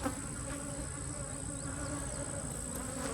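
Many honeybees flying out of a hive on a cloudy day hum in a steady, dense buzz close by, an even swarm drone with no talking.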